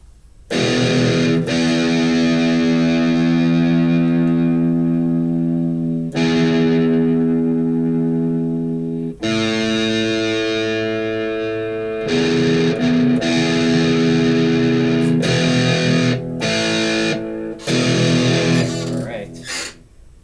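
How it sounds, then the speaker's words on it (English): Electric guitar chords ring out through a heavy distortion effect, loud and sustained with several sharp chord changes and brief gaps, recorded during a live-streamed tracking session. "So we're going to pick my distortion here."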